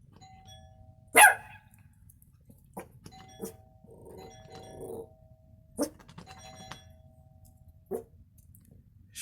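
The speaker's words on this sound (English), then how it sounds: "Here's the doorbell." A doorbell chimes once, then a dog barks in sharp, scattered bursts with a few clicks in a quiet house, the dog being outdoors while the bell sounds inside.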